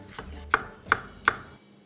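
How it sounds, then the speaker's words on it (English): A knife slices an onion into thin slices on a cutting board for a Turkish breakfast, three crisp evenly spaced chops close up with no talk. "And I'm also gonna add a bit of onion, very thin slices."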